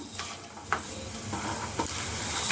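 Urad dal dropped into a sizzling pan of hot oil, a steady frying hiss with a few brief stirring scrapes and clicks, fairly quiet and close, no voices.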